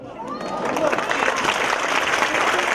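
A seated audience at a Quran course graduation ceremony claps steadily and densely for several seconds, a continuous loud wash of applause with a voice faintly heard beneath it.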